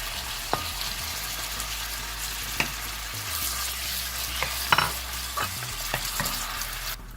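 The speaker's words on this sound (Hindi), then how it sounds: "1 पाव चिकन है, इसको हम मिला देंगे।" Small chicken pieces fry in a pan with a continuous close sizzle while a utensil stirs them, giving several distinct scrapes and clacks against the metal. No one speaks.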